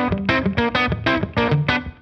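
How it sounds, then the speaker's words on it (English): Electric guitar with heavy distortion, played with hybrid picking around a G5 shape: about seven punchy, chopped chords or short notes in a quick, uneven rhythm, close and loud. "When you start to put distortion on there"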